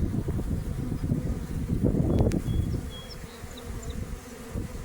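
Bees swarm around their queen at a swarm trap outdoors, a dense continuous buzz close by with gusty wind rumbling through the microphone and no talk.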